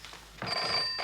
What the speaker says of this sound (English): The phone. The phone.